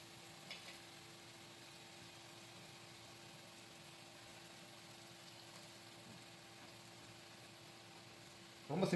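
Ginger and garlic fry in oil for a wedding-style mutton dum biryani, giving a steady, soft, even sizzle throughout, broken by a short louder clatter at the very end.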